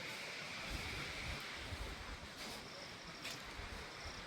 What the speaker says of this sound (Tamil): கீழே அருவி போயிட்டுருக்கு, பயங்கரமான அருவி